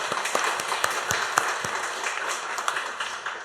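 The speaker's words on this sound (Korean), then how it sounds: "우리 그분을 위해서 한번 격려의 박수 합시다." A church congregation claps in encouragement during a Sunday morning worship service, a steady wash of many hands with a few sharper claps standing out, moderately loud and sustained throughout.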